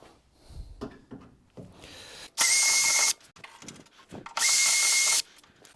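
Drill biting into a large circular rivet on a car's exterior panel, in two loud, steady high-pitched bursts of about a second each, separated by softer clicks and handling noise.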